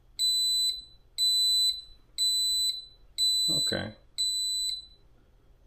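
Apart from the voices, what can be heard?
digital wall clock countdown alarm beeping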